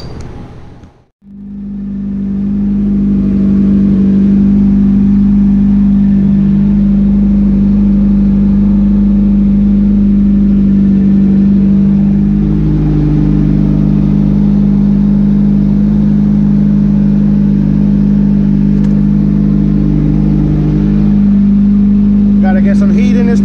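A Honda K-series engine in an EG Civic runs loud and steady on a dyno, a constant droning rumble that rises slightly in pitch midway and holds, with no talking over it.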